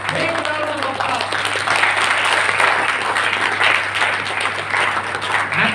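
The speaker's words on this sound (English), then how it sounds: "Can we give a big round of applause to both of these people?" Loud, steady applause from a large audience at an entrepreneurship skills event fills the whole stretch, dense clapping with a few cheers mixed in.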